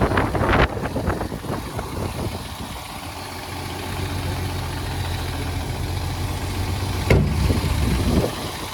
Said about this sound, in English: in addition to listening to the engine, of course, I want to give you a listen to the exhaust